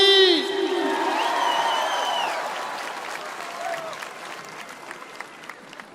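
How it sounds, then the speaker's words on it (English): Applause from a large audience for Sadhguru at the Isha Yoga Center's Maha Shivaratri stage event, with a sustained wash of clapping and scattered whoops that starts loud and slowly thins over six seconds as a song's tones fade out. "Let's have a loud round of applause for the one and only Sadhguru ji"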